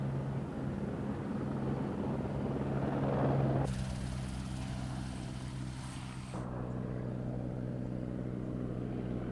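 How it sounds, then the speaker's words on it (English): A helicopter flies over a Madagascar locust-control area, its rotor thudding steadily with a droning engine at a moderate distance; the tone shifts midway as a high whine briefly joins, continuous throughout with no talk. "the whole village gathered around C2's helicopter."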